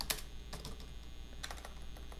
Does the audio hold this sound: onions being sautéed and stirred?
no